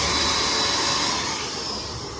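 A 1000-watt vacuum cleaner runs at an Onam expo in Trivandrum, giving a steady, loud whooshing roar throughout that eases slightly toward the end, with no talking.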